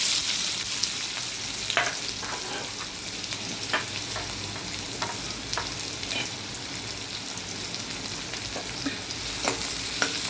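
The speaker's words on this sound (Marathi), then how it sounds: "आता हा कांदा आपला गुलाबी होईपर्यंत आपण भाजून घेऊया." Onion frying in a pan gives a loud, continuous sizzle for the whole stretch, broken by repeated close scrapes and taps of a stirring spoon, with no voices.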